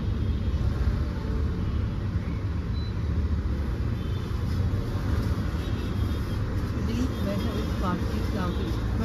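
An MG Astor fitted with a Lovato CNG kit idles on petrol, a steady low engine rumble close by, with a faint high whine above and some speech beneath it.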